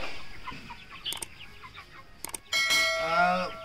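Sandai Seval fighting roosters in a Pondicherry breeding yard cluck in short, scattered calls, building into a louder, longer burst of clucking near the end, close and clear over a faint outdoor background.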